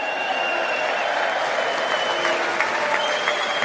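Dense, steady clapping from a large audience at the State of the Union address, filling the whole stretch with a broad wash of hands and a faint murmur of crowd noise underneath.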